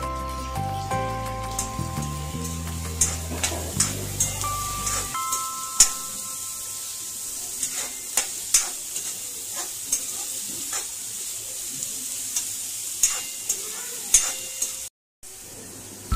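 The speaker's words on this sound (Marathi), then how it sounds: "त्यासाठी मी इथे 3 मोठे कांदे कापून घेतले आहेत बारीक। ते मी फोडणीला टाकते" Finely chopped onions go into hot tempering oil and fry with a bright, steady sizzle, close up. A few clinks of a utensil stirring the pan are heard, and soft musical tones fade out early on.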